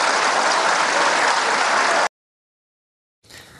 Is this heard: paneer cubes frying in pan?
no